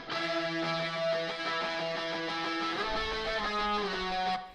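Guitar in a pop punk track, widened with Real ADT artificial double tracking and panned left and right, playing a sustained harmonic-rich chord progression that holds steady and loud throughout, with no voices.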